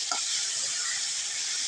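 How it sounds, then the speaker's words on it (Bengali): Fish sizzles steadily as it fries in hot oil, a dense, even crackle held at constant loudness throughout with no talking. "এই মাছটি বাজি করতেছি"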